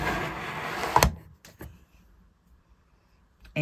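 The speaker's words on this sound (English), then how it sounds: "So now I will shut the door" A door shuts on the enclosure of a Creality Falcon2 Pro 40W laser engraver: one sharp thud, then a couple of fainter knocks and near silence.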